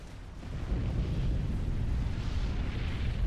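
Battleship artillery in a Supreme Commander: Forged Alliance 5v5 match, a dense continuous roar of heavy booms and explosions rumbling low and loud, without separate distinct shots.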